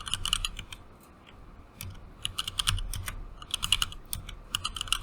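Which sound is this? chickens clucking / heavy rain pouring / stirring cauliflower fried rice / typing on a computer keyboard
typing on a computer keyboard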